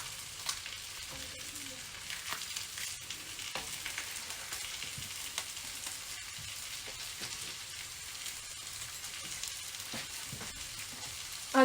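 Sardines frying in a pan with green chillies, a steady close crackling sizzle with dense spitting pops running throughout and a brief clunk at the very end.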